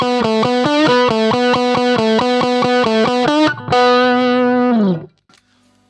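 Electric guitar played through a Maybach Albatroz fuzz pedal into a Birdsong Kestrel amp: a rhythmic run of thick, saturated fuzz notes, then a sustained chord that rings out and cuts off, with no talking.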